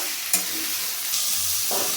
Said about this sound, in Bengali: নুন দিয়ে আমি এবার সবজিটাকে ভালোভাবে ভেজে নেব তেলের সঙ্গে